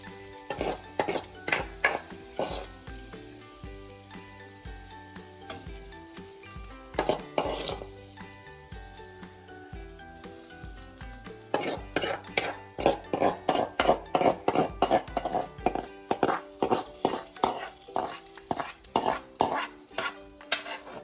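A spoon clanks and scrapes rhythmically against a metal pan as squid roast (kanava) is tossed through browned onions. Bursts of fast clinking strokes are loud and close, with a faint sizzle beneath and no talking.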